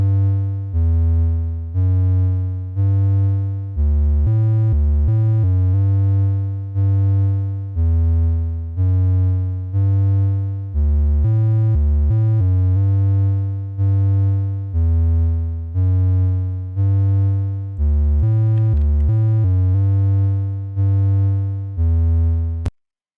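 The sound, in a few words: synthesizer note sequence played with Tone.js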